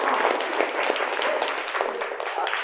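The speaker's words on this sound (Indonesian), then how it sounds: "Aplaus buat kita semua." Steady applause from a group at a 2023 teacher-training session, sustained and fairly close for a few seconds with no break.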